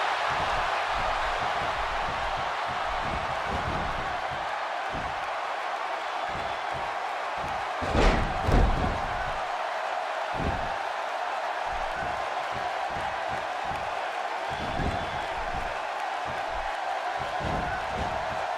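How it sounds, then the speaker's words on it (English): A wrestling arena crowd at a Money in the Bank event roars as a steady wash of noise. It swells a couple of times near the middle, with faint commentary underneath. "by the sound of this crowd, I think they're getting what they wanted"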